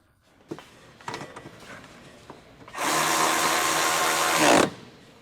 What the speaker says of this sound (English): Use a 14mm short socket with an electric ratchet wrench to tighten the bolt.